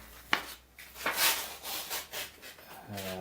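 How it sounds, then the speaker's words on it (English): Light sanding by hand on painted wood between coats of paint on a Pac-Man arcade cabinet build, a series of close, uneven rubbing strokes with a few sharp scrapes, no talking. "I think I'll just do it a light sanding"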